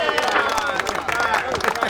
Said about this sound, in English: How about a big round of applause for Eric, Margaret's grandson, and Food and Water Watch for all they do